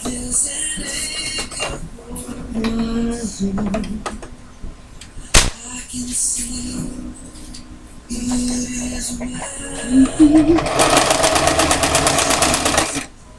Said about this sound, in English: So we're going to go ahead and sew these together.